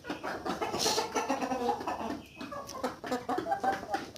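Black Australorp hens, around two years old and still laying, cluck in an irregular, overlapping chatter, with short bursts of calls rising and falling through a busy coop.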